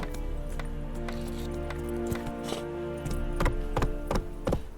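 Roach, a horse in The Witcher 3 game, trots along with regular clip-clopping hooves, steady and close, over a droning background and growing a little louder near the end.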